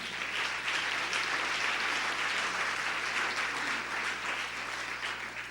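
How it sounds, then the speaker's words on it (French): Steady, sustained applause from a large conference audience at a business closing session, a dense even wash of clapping with no speech over it. "Je voudrais aussi qu'on applaudisse les derniers intervenants"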